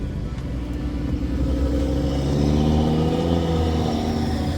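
A tuned Audi RS3 making 760 all-wheel horsepower on 40 psi of boost revs loudly and close by, its deep engine note climbing and holding in a sustained, growling roar.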